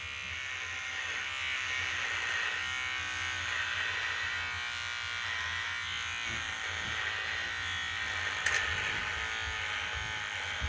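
An electric shaver buzzes steadily and close while shaving off a one-year-old beard, with a constant hum whose tone shifts slightly as it moves over the hair and one brief click partway through.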